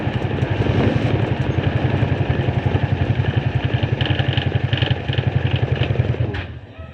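A car engine runs during driving practice, a loud steady throbbing idle with even rapid pulses that fades and cuts out at the end.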